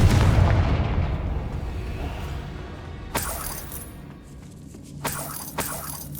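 Confringo fire spell explodes in the video game Hogwarts Legacy: a heavy booming blast that decays over a few seconds, followed by sharp crackling impacts and a couple of shattering bursts.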